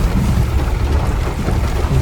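Heavy monsoon rain pours down steadily in Gurgaon, with a low rumble of thunder rolling underneath throughout.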